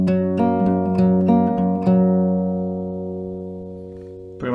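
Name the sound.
guitar playing E-based pattern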